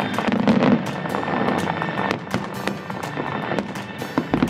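Fireworks at a fireworks festival in Europe crackle and pop in rapid bursts, with sharp bangs scattered over a continuous rumble, heard from a moderate distance.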